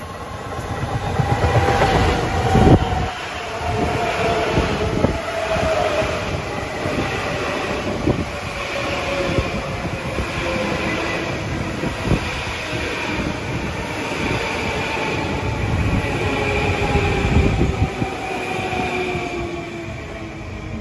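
An eastbound LIRR M9 commuter train passes through Carle Place during the morning rush with a steady loud rumble and rolling clickety-clack of wheels over rail joints, sustained throughout and close at hand.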